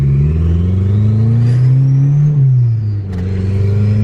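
A Honda Integra with a turbocharged B20V engine, smoking heavily, pulls away: a loud, close engine note climbs steadily in pitch, eases off briefly, then builds again.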